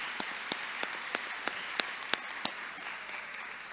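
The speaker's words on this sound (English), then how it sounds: "Let's give them a big round of applause." Graduation audience applauding in a large hall, a steady wash of clapping with a few sharper individual claps standing out, moderately distant and even throughout.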